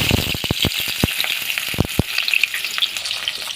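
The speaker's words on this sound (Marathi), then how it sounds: "आता हा कांदा चांगला भाजायचा आपल्याला." Onion frying in a pan for veg biryani: a loud, steady sizzle with a quick burst of stirring clatters near the start and a few more scrapes later.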